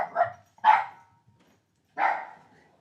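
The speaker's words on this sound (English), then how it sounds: "Never mind the dog." Three separate dog barks, sharp and fairly close, with gaps between them and no other sound around them.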